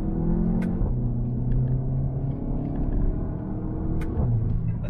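A VW Golf 7 GTI hot hatch accelerating through curves, heard as a steady in-cabin engine drone with rising and falling tones as it pulls through gear changes.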